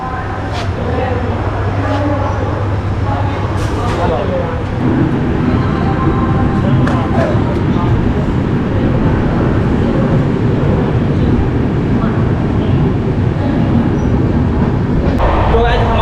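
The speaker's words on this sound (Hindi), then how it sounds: "जब हमारी ट्रेन यहाँ से खुलती है फिर आपको दिखाता हूँ हमारी ट्रेन का यहाँ से डिपार्चर" The Swatantrata Senani Superfast Express pulls out of Aligarh station with a steady, loud rumble of rolling carriages that builds as it moves. Voices talk nearby over the noise.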